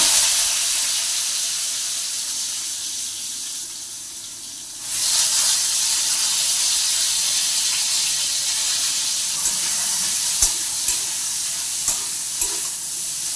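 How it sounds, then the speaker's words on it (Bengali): Pointed gourd and other vegetables fry in a little oil, making a continuous hissing sizzle that surges louder partway through, with a few soft knocks of stirring later on. "সবজিগুলোকে একটু ভেজে নেব দেখুন কাঁচা পটল তো রান্না করলে ভালো লাগে না একটু তেলের মধ্যে ভেজে"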